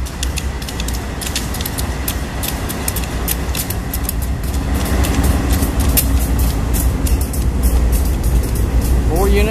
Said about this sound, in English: Unit rock train inbound Houston loaded.